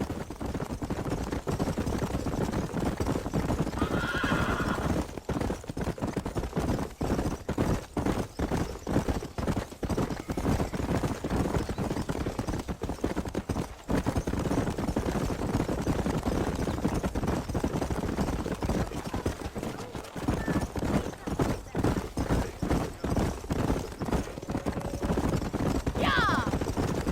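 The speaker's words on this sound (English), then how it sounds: "These are fine horses." Many horses run with dense clip-clop hoofbeats in Red Dead Redemption, steady and loud throughout, with brief whinnies and some talk in the mix.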